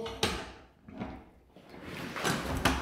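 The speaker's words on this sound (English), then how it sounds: "as we close the door" Car door being shut, with a door hanging too low on worn hinges; a few close thumps and latch clacks spread over a few seconds, moderately loud with quieter rustling between them.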